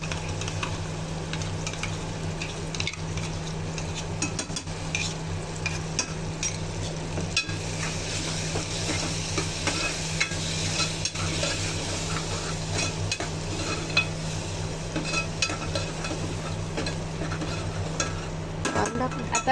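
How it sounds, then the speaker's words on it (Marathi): A ground masala paste fries with roasted onion in a pan. A continuous, moderately loud sizzle runs under steady stirring and occasional scraping, with no speech. "आता कांदा आपला भाजलेला आहे. त्यामध्ये आता आपण हे वाटण केलंय ते टाकायचं."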